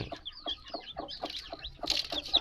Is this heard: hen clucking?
yes